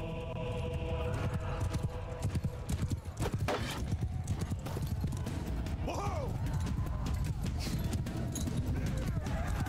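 Horse hooves clip-clop during a battle in the Mount & Blade II Bannerlord video game, with rapid rhythmic hoofbeats, a brief whinny and battle clatter. Someone talks over it.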